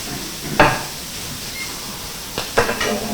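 Ingredients sear in a paella pan with a steady hiss and sizzle, broken by a few sharp scrapes and stirs of a utensil against the metal.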